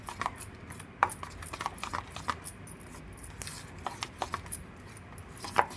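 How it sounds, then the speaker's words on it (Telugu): Choco lava cake batter with baking powder is mixed by hand in a bowl, a spoon knocking and tapping against the sides in quick, irregular strokes, fairly close and moderately quiet. "వేసి వీటిని కూడా బాగా కలిపేసుకోవాలి."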